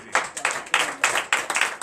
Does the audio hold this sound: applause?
yes